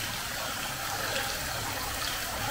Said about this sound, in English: just listen to the water drops